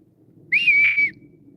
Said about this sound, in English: I'm at the seats and the whistles start.